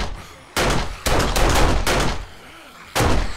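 Gunfire in the game 7 Days to Die, several loud close bursts of rapid shots separated by brief pauses.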